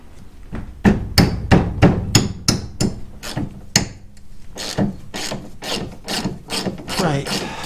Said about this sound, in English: I don't like taking a hammer to my ratchet